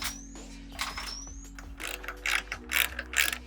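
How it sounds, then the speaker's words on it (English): A ratchet clicks in quick bursts while 8mm stainless bolts are tightened into the roof rack towers of a Ford Transit Extended van, close and clear over a low steady hum. "of tightening the 8mm stainless bolts into the roof"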